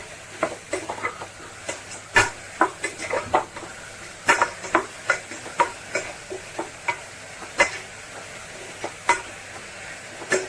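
Carrots being stir-fried in a pan for carrot rice: repeated sharp scraping and clacking strokes of a spatula against the pan over a low sizzle, at a steady, brisk rhythm, close up and without talk.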